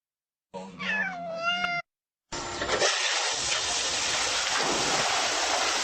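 A cat gives a single drawn-out, wavering meow, close and fairly loud, then a steady rain-like hiss of noise fills the rest.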